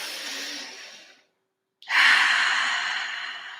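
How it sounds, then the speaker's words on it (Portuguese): A deep breath taken during a guided relaxation exercise: a long audible exhale that fades, a brief pause, then a strong inhale through the nose, close and alone. "Respira fundo."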